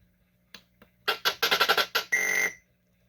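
A rapid run of bright electronic beeps and chirps from inserting a credit in the 1942 arcade game, then a sustained buzzing warble, loud and close with no talking.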